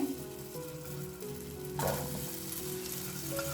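Okra goes into two or three spoons of hot oil in a pan, where a low hum of oil jumps to a louder, bright sizzle partway through and keeps crackling, with no voices.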